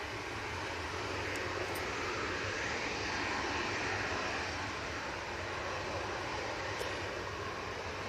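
TUI Nordic airliner arriving at Manchester Airport, a steady distant engine rumble and hiss holding at an even level throughout, with a few faint clicks and no voices.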